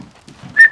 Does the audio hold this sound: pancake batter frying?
no